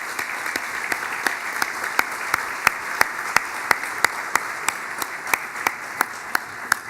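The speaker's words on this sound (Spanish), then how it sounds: "así que creo que merecen un aplauso." Applause at a business luncheon on food production, heard as a single person clapping crisply at a steady, slightly quickening rhythm over a soft background murmur.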